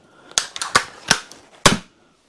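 A Stinger crossbow with tuned limbs is shot in a series of four sharp, loud snaps, spaced unevenly over a couple of seconds, each cutting off quickly with a short decay.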